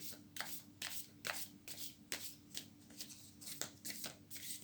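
Tarot cards are shuffled by hand in quick repeated riffles, about a dozen soft bursts close by and fairly quiet, with no talking.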